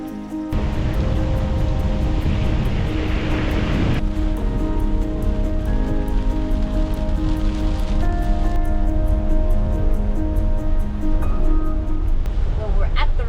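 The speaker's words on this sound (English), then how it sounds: "It is pouring rain." Heavy rain pours steadily in Lombok, a dense, loud, unbroken hiss that fills the whole stretch, with a faint low hum underneath.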